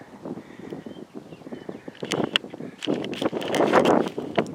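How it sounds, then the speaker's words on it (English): Wind gusts buffet the microphone outdoors on a bicycle ride, a rough, fluttering roar that swells and rises toward the end, mixed with scattered rustles and knocks. "Dang wind's blowing."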